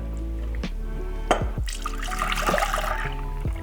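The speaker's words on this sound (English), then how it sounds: "So I'm gonna go ahead and add 3 cups of milk." Three cups of milk pour into a pot in a steady liquid stream, with a couple of brief clinks over the continuous flow.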